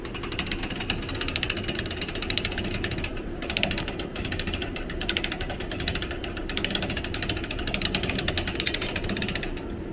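A pressed penny souvenir machine at Union Station, its crank wheel being turned by hand, giving a continuous close grinding and rapid ratcheting clatter of gears that runs steadily for about ten seconds.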